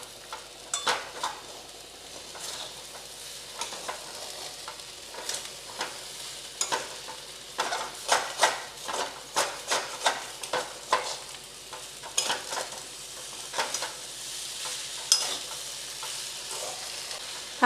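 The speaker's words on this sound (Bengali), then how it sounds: "এবার ভালো করে নাড়বো।" Basanti pulao frying in ghee with cashews and raisins is stirred in a pan. Repeated scraping strokes come in an uneven rhythm over a soft continuous sizzle, close and moderately loud.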